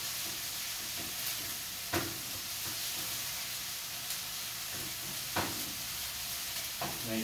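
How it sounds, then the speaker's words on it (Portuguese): Garlic sautés in a pan for a quick chicken pie filling, giving a steady soft sizzle with occasional spoon strokes and scrapes at intervals, no voices over it. "A gente dá uma refogada no alho."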